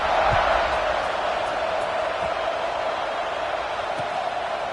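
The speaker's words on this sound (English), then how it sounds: "this crowd is buzzing after that last score." Football stadium crowd buzzing after a score, a dense, loud, steady roar of many voices with faint thumps, filling the whole stretch with no clear single voice.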